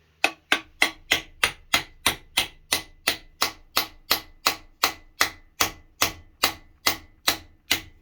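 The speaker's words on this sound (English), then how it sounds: "hammer the freeze plug in just as straight as humanly possible" A hammer drives a freeze plug into a Mopar 360 engine block in a run of about twenty-five sharp metallic blows, struck loud and close at a steady, even pace with no talking.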